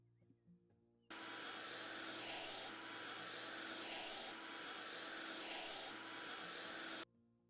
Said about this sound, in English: it looks like a squeegee, but it sounds like a Hoover.